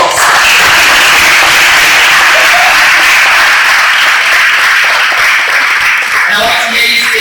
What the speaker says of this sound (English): I want to hear you give yourself a round of applause